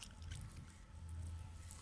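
Water is poured lightly over a seedling tray of Gomphrena flower seeds, giving a soft, steady splashing and pattering that stays faint and continuous throughout, with no talking.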